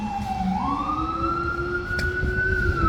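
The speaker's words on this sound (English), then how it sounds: "ambulance" A loud ambulance siren wailing steadily nearby, its tone sliding upward and holding, with traffic rumble underneath.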